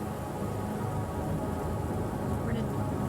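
Steady rain falling in a dark universe in Manifold Garden, a dense, even hiss of drops on surfaces that stays constant throughout with no pauses.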